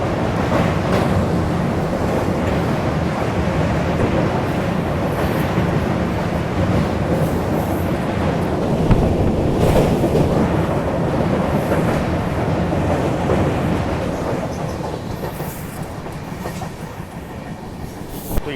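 The New Delhi–Jammu Duronto Express rumbles along the rails, a loud continuous roar with faint clattering of the cars, unbroken by voices and easing slightly toward the end.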